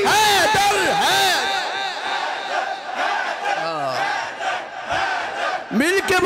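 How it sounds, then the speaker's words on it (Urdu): A large crowd loudly chants the religious slogan Haidari in unison at a sermon gathering, with sustained rising and falling massed voices repeating through the whole stretch, forceful and close. "پنج نعرے پنج تری سوا لاکھ نعرہ حیدری حیدر ہے۔"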